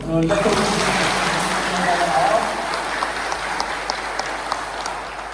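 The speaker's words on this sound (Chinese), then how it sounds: "所以我们以鼓掌表示我们对他们的敬重。" A church congregation breaks into sustained applause, a dense wash of clapping from many hands that swells early, then gradually thins and fades.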